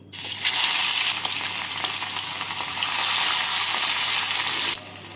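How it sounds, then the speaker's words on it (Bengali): Rohu fish pieces frying in hot mustard oil in a wok, giving a loud, continuous crackling sizzle that holds steady and then drops off abruptly near the end. "আলুগুলোকে তুলে নিয়ে এই তেলের মধ্যে আমি মাছগুলোকে ভেজে নিচ্ছি।"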